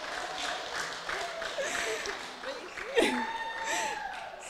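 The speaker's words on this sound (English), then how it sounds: "You guys can clap." Light, fairly distant audience clapping during a resolution presentation, modest and steady under a voice speaking over it.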